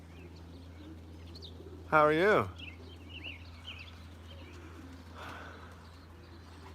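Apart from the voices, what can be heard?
young racing pigeons cooing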